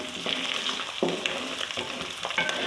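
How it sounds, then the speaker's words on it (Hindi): Ginger sizzling in a hot pan as it is stirred, a busy close crackle with rhythmic scraping strokes of the spoon and no voices over it. "अदरक को भून लूँगी थोड़ा सा"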